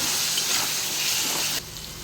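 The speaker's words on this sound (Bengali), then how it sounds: "ভালো করে ভেজে নেব।" Spice paste of cumin powder, ginger paste and chilli paste frying in a pan gives a loud, close, steady hiss and sizzle that drops suddenly near the end.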